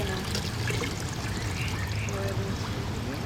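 Liquid poured carefully from laboratory glassware, a short, steady trickling stream heard up close with no pauses, in a surface sampling lab setting.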